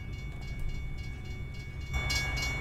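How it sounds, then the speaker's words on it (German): A long freight train rolls past in American Truck Simulator, a steady low rumble with faint metallic clatter and a thin ringing tone, heard close and continuous. "Okay, der Zug ist echt ganz schön lang."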